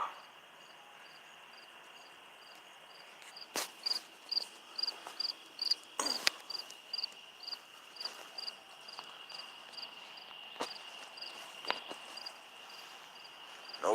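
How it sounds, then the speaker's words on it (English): Crickets chirp steadily at night in a faint, continuous high trill, with several sharp clicks and knocks scattered over it. "With the crickets."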